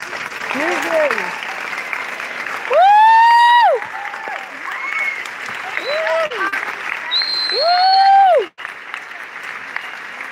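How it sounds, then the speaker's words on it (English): Applause rolls on through the clip at the Ace Hotel while a few loud whistles and whooping voices rise over it from the crowd. "if you'll join me in a round of applause"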